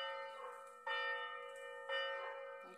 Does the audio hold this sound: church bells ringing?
yes